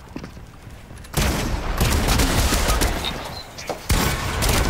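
Gunfire in the video game Fortnite, a dense, loud fusillade of rapid overlapping shots that starts abruptly and carries on almost without a break.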